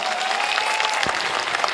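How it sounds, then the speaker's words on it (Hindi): Audience at a Hindi poetry reading honoring Babasaheb applauding, a dense steady wash of many hands clapping loudly and close, sustained throughout. "पहले तो उसके लिए एक बार जोरदार ताली।"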